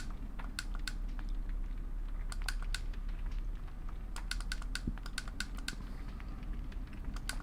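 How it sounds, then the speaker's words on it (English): Plastic buttons on a game controller click in quick irregular bursts, crisp and close over a faint steady background hum, with no talking. "hopefully the clicking of this controller isn't too loud on the microphone"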